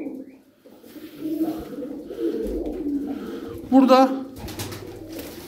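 A blue male tumbler pigeon in a Darıca bird yard coos in low throaty bursts, mostly under a man's speech, with one louder coo standing out near the end.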